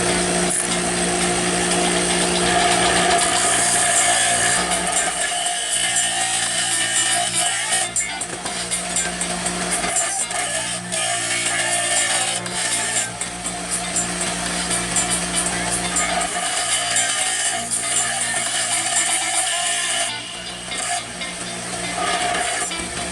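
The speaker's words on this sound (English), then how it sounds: "I'm gonna shave it right here onto this bench grinder" A bench grinder shaves metal stock while a sword blade is shaped, a loud, continuous harsh grinding whine with shifting pressure and brief dips, a voice talking over it at times.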